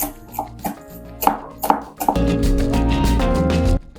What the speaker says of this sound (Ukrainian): Так, зелень в мене укропчик і петрушка. І тако дрібненько-дрібненько зараз будемо нарізати.